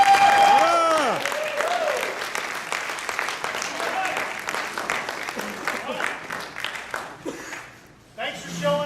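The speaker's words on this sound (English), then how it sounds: "Keep clapping, keep clapping." Audience at a Wizard World Philly 2009 convention panel clapping in a sustained burst, with voices talking and calling out over it throughout before the noise drops away near the end.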